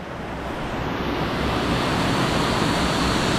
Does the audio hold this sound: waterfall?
yes